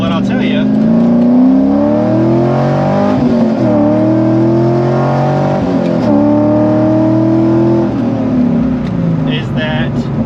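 Car fitted with a short shifter accelerating hard through the gears, engine drone climbing in pitch then dropping at each shift, loud and close from inside the cabin, with a person talking over it.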